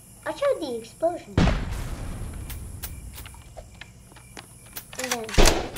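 Two sudden booming blasts from a rocket explosion in a video game, each with a rumbling tail, break through chirpy electronic sounds and light clicks.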